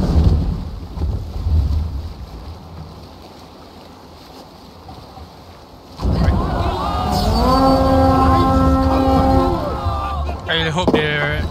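A longship under sail at sea in Assassin's Creed Valhalla, with a steady wash of wind and water that swells louder midway as creaking and tonal ambience join in.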